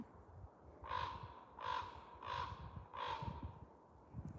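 A crow in the bush of British Columbia caws four times in an evenly spaced series, the harsh calls clear but somewhat distant over quiet outdoor ambience.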